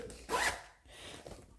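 A zipper slides along a clear plastic A4 pouch with a blue zip closure, one quick close zip followed by a softer second pull, quiet and with no voices.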